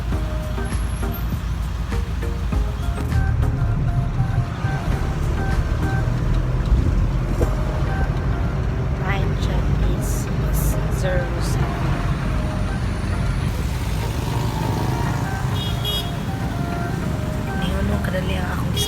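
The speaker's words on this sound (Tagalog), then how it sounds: "Nakasakay na ko jeep ani Pakalinan" Jeepney ride through Philippine streets, a continuous engine drone and road rumble with passing traffic noises and occasional high beeps, people talking over it.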